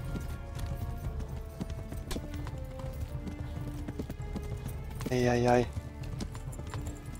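Horse hooves galloping in the medieval video game Kingdom Come Deliverance, a steady rapid clip-clop under a voice, with a short loud whinny-like burst near the end.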